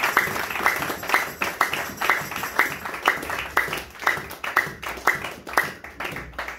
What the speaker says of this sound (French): Acclamons, acclamons encore pour la gloire de notre Père